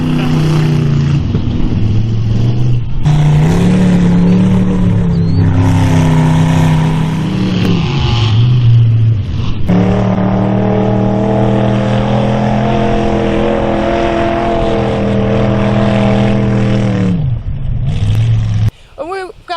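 Mud bogging truck engine revving at a mud bog event, loud and close with repeated rising and falling roars that hold steady through long stretches, with voices heard over it.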